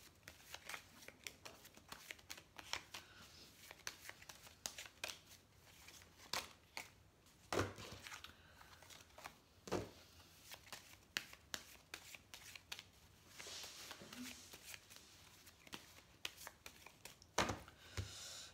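Oracle cards shuffled by hand for a reading: repeated soft papery riffles and flicks at an irregular rhythm, close and fairly quiet, with a few sharper slaps.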